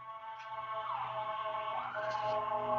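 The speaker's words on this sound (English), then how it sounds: "Pardon the sirens." Emergency vehicle sirens wail outside in the distance, a faint rising and falling tone sweeping twice beneath a steady low electrical hum.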